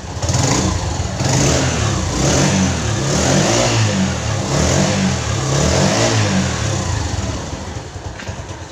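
A TVS Star City motorcycle with a burnt clutch plate and a misfiring engine starts and revs loudly, its engine note rising and falling in repeated throttle blips across the whole stretch, close by with no talking.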